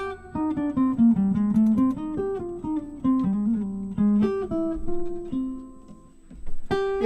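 A slowed-down guitar solo, a continuous run of single plucked notes, close and clear, rising and falling with a few sustained tones and brief pauses near the end.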